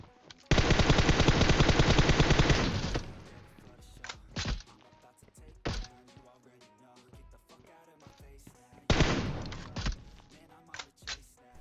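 Rifle gunfire in the PUBG Mobile shooter game, including AWM and MK14 weapons: a dense, loud burst of rapid automatic fire for about two seconds, then scattered single sharp shots, and a second rapid burst later.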